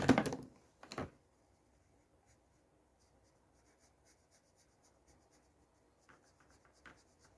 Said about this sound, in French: Donc je vais colorier sa tête.